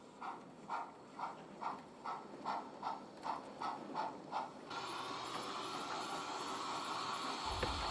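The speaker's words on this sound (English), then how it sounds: "A lined black Prairie tank engine rejoins the down main line from the goods loop with a train of flat wagons." A model lined black Prairie tank engine runs from a goods loop onto the down main line with a train of flat wagons, a regular rhythmic chuff that gives way to a steadier rolling rumble as it draws nearer.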